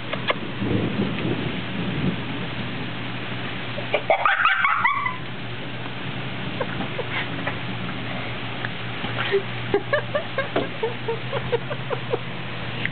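Steady rain falls outdoors with a brief rumble of thunder in the middle, while small droplet taps and a few scattered sharp sounds continue throughout.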